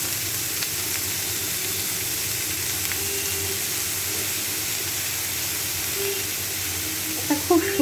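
Leafy greens hit hot oil with fried garlic in a pan, giving a loud continuous sizzle close by, with brief clattering near the end and no speech.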